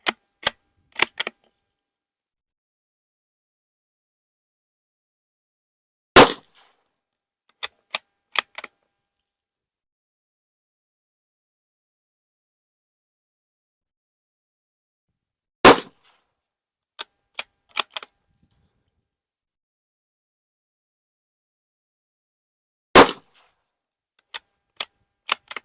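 Three sharp, loud .22 WMR rifle shots from a Savage 93 firing Hornady 30 grain VMAX rounds, spaced several seconds apart, each followed by faint clicks of the bolt action working between shots.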